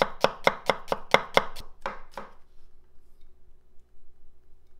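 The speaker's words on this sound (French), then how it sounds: "Là, on vient de finir de couper les échalotes." A knife chops shallots on a board for a smoked salmon bagel: about nine quick, crisp, evenly spaced strokes close up, then two slower cuts before quiet.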